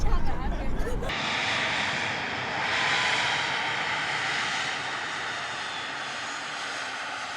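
A large Singapore Airlines Airbus passenger jet landing at an airport, its engine roar a steady, loud broadband rush that swells briefly mid-way and then holds, after a short burst of closer handling noise at the start.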